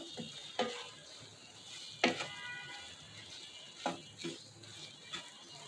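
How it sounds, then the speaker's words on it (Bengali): Spices sautéing in a hot pan for a Bangladeshi home-cooked dish, a steady close sizzle broken by several sharp scraping stirs at irregular intervals, with no talking. "এই মশলাগুলো দিয়ে একটু কষা হলে তারপরে বোম্বাই মরিচ দেবো।"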